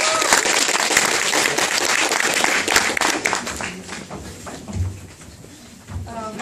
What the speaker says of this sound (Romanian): Cu aplauze, haideți să o întâmpinăm pe Ana Bibor.